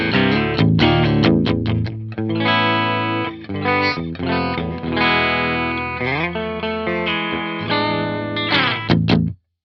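A Firefly seven-string electric guitar on a clean tone with a shimmery chorus effect plays strummed chords and ringing single notes for several seconds, loud and up close, then stops abruptly.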